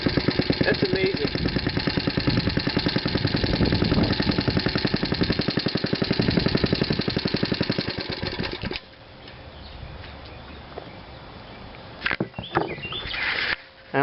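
An engine runs after startup at a fast, even chug with rhythmic pulses for several seconds, then cuts off, leaving quieter room noise and a few clunks.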